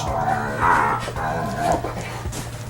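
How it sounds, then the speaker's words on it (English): A dog makes excited yips and whiny vocal noises close by, several short bursts over a steady low background hum. "This is a crazy dog."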